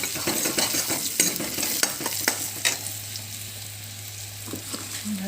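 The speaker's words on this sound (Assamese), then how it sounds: "অলপ ভাজিম।" Food stirred and frying in a pan with coriander powder and salt, a steady sizzle broken by repeated scraping strokes of a spoon, close and fairly loud, with no talking.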